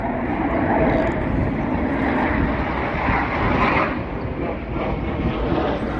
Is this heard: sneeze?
no